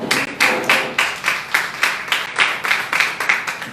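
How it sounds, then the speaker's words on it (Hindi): Church congregation clapping in unison to thank the Lord, about a dozen sharp, steady claps in even rhythm, loud and close, with no talking. "प्रभु का धन्यवाद करें ताली बजाकर"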